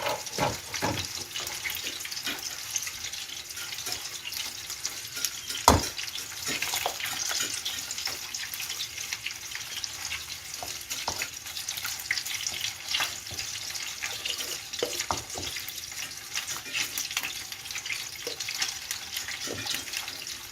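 Water at a boil in a cooking pot as rice goes in, a soft bubbling, crackling texture broken by scattered clicks and knocks, one sharper bump near the middle, and no voices.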